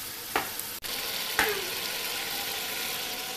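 Chicken salan masala cooking in a pan at home, a steady soft frying sizzle running throughout with a few brief clatters of stirring near the start, fairly quiet and close, no talking.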